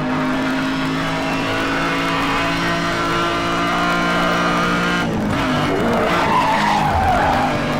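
A McLaren supercar in the racing game Need for Speed Hot Pursuit: a loud, steady engine drone with a rising tire skid that squeals over the final seconds, no talking.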